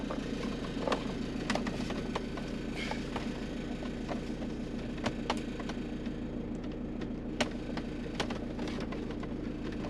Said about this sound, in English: So if I just start the engine again, just to get power to the sat nav.